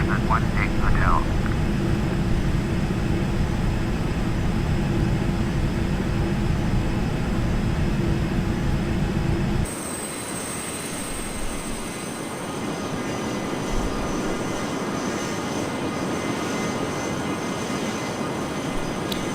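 Cessna aircraft engine in the Air Hauler flight game drones steadily, loud and continuous, with the tone shifting partway through as the engine note changes.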